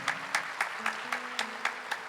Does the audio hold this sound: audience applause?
yes